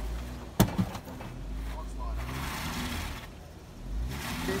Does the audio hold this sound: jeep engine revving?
yes